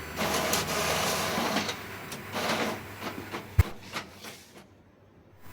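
An office printer doing double-sided printing runs with a steady mechanical whir and shuffling paper feed, ending in a sharp clunk and a few clicks before the motor fades out.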